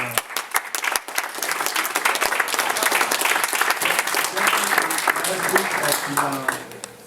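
Audience applause for Latanya and Teresa at a New York real estate investors' seminar: a dense roomful of clapping runs steadily for about seven seconds, then tapers off at the end.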